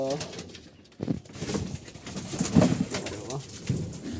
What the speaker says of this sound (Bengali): কবুতর থাকে অনেক বিশ বাইশ জোড়া মতন কবুতর থাকে নিচের ঘরে